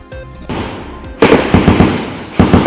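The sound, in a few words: gunfire during security forces encounter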